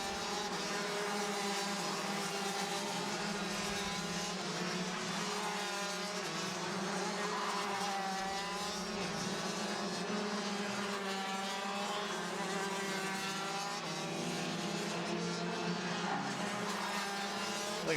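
Rotax DD2 racing karts drone around the track in a kart race final, their engines a continuous, overlapping whine that rises and falls as the pack passes, heard from a moderate distance with no pause.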